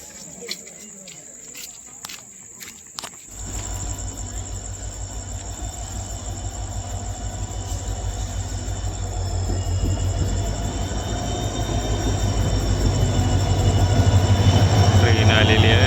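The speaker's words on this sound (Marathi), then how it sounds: "ट्रेन आलेली आहे." A train pulls into a railway station platform, starting as a quiet scene with a few clicks and insect chirps, then a heavy rumble sets in and grows steadily louder, overlaid by a high steady whine.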